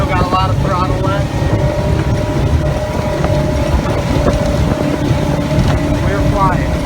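A 2006 Four Winns 290 Horizon boat runs at full throttle, its engine a steady, loud roar with continuous water and wind rush, faint voices partly audible beneath the noise.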